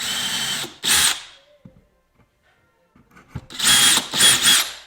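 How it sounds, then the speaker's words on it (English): A power drill fitted with a tiny 1/16-inch bit bores pilot holes for van upper cabinets in short whining bursts: two quick runs, a quiet gap with faint handling noises, then three more close, loud bursts. "grab your other drill with a really small bit."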